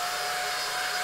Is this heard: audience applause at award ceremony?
no